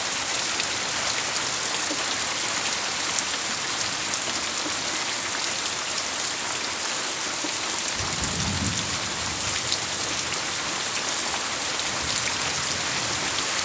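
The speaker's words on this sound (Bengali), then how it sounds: "জোরেও আসছে, বৃষ্টি আরো জোরে এসছে।" Heavy rain pours down over a waterlogged field beside a jamun tree, a dense, continuous hiss with a brief low rumble partway through and no talking.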